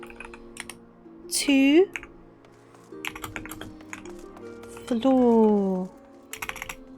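Light clicking of keys on a computer keyboard in short irregular bursts, close and soft, interrupted by a person talking.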